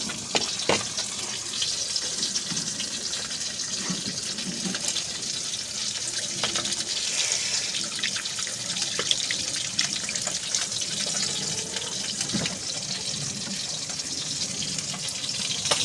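A tap runs continuously into a sink while an item is washed by hand, a steady close rush of water with small clinks and splashes throughout, no talking.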